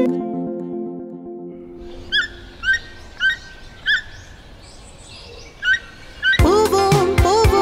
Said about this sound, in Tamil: யார் பாடுவது? யார் பாடுவது? தூக்கான் பறவை.